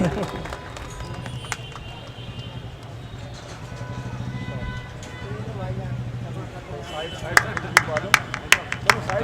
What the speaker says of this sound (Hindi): तालियां बजती रहे भाई।